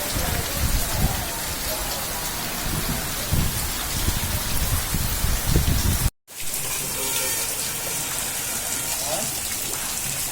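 Steady heavy rain pours over a flooded village, a dense continuous hiss with drops on surfaces and a faint distant rumble; the sound cuts out for a split second midway, then resumes just as loud.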